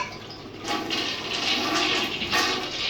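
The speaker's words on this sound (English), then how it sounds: "You're going to flush the toilet." A household toilet flushes with a steady rushing of water that swells after a brief pause and keeps running at close range, with no one talking.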